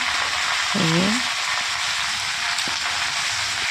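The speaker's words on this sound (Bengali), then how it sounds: "তেলের মধ্যে কালো জিরে দিয়ে পেঁয়াজ ভাজছি" Onions frying in hot oil with black cumin (kalo jeere) give off a steady, close hiss of sizzling throughout, with a brief hoarse vocal sound near the start.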